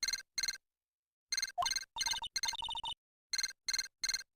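A kidnapper's walkie-talkie transceiver rings in a Phoenix Wright game with electronic, ringtone-like pulses. It plays clipped bursts in a repeating pattern, broken by brief silences, then resumes its steady rhythm.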